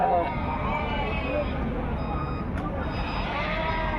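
Sheep bleating at the Gudur livestock market near Nellore, with a murmur of voices and background bustle throughout.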